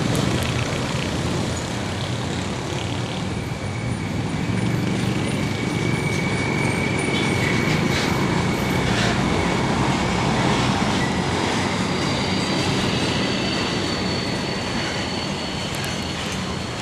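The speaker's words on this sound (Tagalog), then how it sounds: "nagdatingan na po mga tren" Trains and rail wagons rolling in the Philippines, a steady loud rumble of passing rail cars with rhythmic clatter, with road traffic such as trucks mixed in, no talking.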